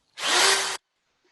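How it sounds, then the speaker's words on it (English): A power drill bores a hole into a shiitake mushroom log: one steady, loud, close whir lasting about half a second, starting and stopping abruptly, with no voices. "We'll move about 2 inches and we'll drill our first hole."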